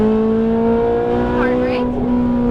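Ferrari 458 Italia engine pulls hard and climbs in pitch, then snaps through an upshift with a brief dip and rising note again, loud and close, with a driver talking over it.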